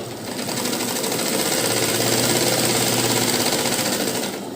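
A sewing machine stitching a lined blouse runs in one steady, loud, close burst of rapid needle rattle, spinning up and winding down over a few seconds, with no talk.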